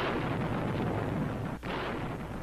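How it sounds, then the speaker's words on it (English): Long-range artillery bombardment pounding Tinian from Saipan, heard as a continuous loud roar of distant heavy guns and blasts with one brief lull, no speech. "Long-range bombardment of Tinian from Saipan began to reach a climax on jig -9"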